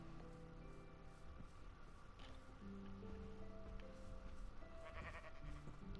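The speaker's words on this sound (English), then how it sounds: "Now the sheep's following me." Several sheep bleats from Minecraft on PlayStation 4, drawn-out wavering calls recurring across a few seconds amid soft game ambience, close and clear with no voice over them.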